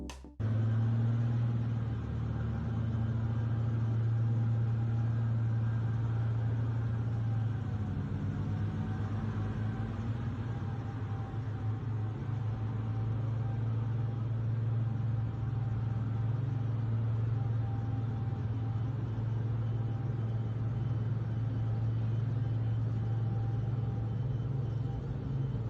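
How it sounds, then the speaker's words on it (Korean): A Type 100 series tank vehicle engine runs with a steady, low, droning rumble, continuous and fairly even from start to finish with no voices. "그리고 다음은 백식 전차 계열의 소리입니다."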